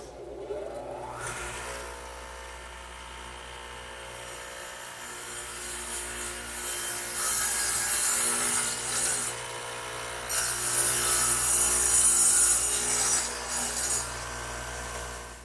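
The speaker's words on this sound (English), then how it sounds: "the radial arm is set up with a dado head, which is just 2 blades at an angle to one another, so they plow out material" A radial arm saw fitted with a dado head of two angled blades plows across wood, starting with a rising whine, then a sustained grinding cut that grows louder in two bursts, close up and with no speech.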